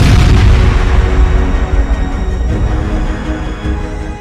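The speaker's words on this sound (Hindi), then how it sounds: "धमाका इतना जबरदस्त था जिसकी वजह से कुछ सेकंड के लिए भूकंप जैसे झटके महसूस किए गए" A powerful blast tied to fighting between Israeli forces and Hezbollah, a loud, heavy low rumble that starts at full force and rolls on, slowly decaying with rough crackling over a few seconds.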